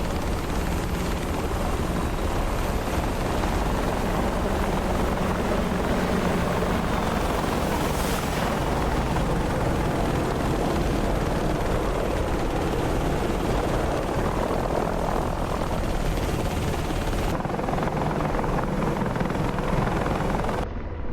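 An Apache helicopter in a video game makes a low pass near an aircraft carrier, its loud rotor thrum and engine roar holding steady and close throughout.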